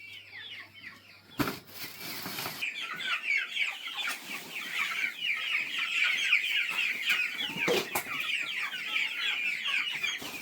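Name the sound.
chickens clucking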